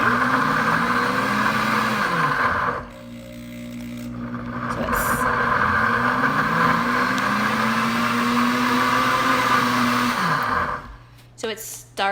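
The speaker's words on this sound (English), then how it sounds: "So it's starting and stopping, and it's thinking about what's happening in the blender" A Pampered Chef Deluxe Cooking Blender purees carrots on a heated setting, its motor whirring up and winding down in repeated start-stop cycles with brief pauses, loud and close, finishing with a few clicks.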